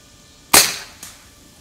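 A muzzleloader rifle fires a single .375 round ball: one sharp crack followed by a brief decaying echo, heard alone at moderate distance.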